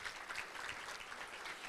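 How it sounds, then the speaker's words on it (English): Brief, fairly faint wash of applause from the audience at a regional vision launch event, steady dense clapping with no voices over it. "Let's give them a round of applause."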